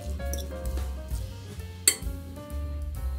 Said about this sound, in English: So we're going to go ahead and just mix it until it's well combined.